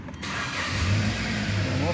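A Hyundai Sonata engine cranks and catches during repair work in a garage, then settles into a steady, close idle rumble that runs without a break to the end.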